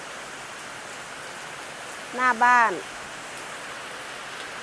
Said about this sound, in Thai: วันนี้ฝนตกทั้งวันเลย